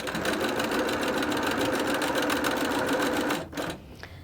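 A domestic sewing machine stitches a quilt border onto a half-square triangle block, a steady, fast mechanical whir running continuously at close range for over three seconds before it suddenly stops, leaving a quieter tail.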